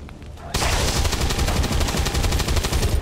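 Sustained automatic gunfire in the video game XCOM 2 breaks out suddenly and rattles on in a rapid, even burst of loud shots for several seconds.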